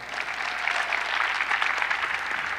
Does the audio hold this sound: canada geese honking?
no